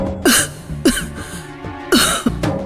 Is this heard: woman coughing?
yes